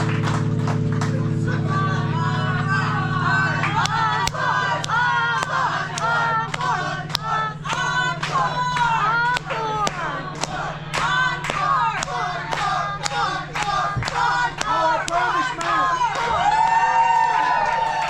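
Audience at a rock show aboard a cruise ship cheers, claps and shouts continuously, a dense roar of voices with sharp hand claps, loud and close, while a steady musical drone holds underneath.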